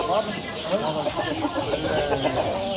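Chickens and roosters cluck and call continuously at a busy poultry market, close and overlapping, with people talking throughout.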